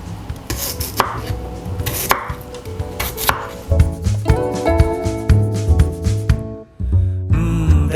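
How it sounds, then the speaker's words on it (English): Knife chopping raw yam on a board, a quick run of crisp, close cuts over a steady background of music. "So now I'm just chopping it and putting it in water so that the color doesn't change."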